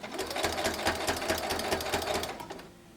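A sewing machine stitches a quilted pumpkin table runner in a steady, rapid run of needle strokes, close and fairly loud, slowing and stopping near the end with no talking.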